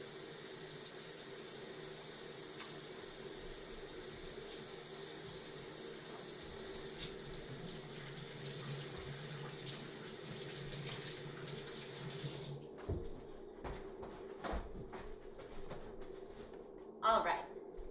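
Water runs steadily from a tap into a sink during handwashing with soap in a kitchen setting while baking banana bread, then stops and leaves some scrubbing noise, with a person talking over it.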